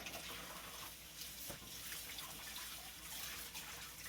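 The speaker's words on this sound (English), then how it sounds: "I'm going to rinse this off really good." Tap water running steadily into a sink while spinach is rinsed, a constant soft, quiet rush with little variation and no speech.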